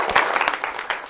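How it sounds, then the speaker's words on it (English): Church congregation applauding, a brief burst of dense, close hand clapping from many people. "Give Fred a hand clap."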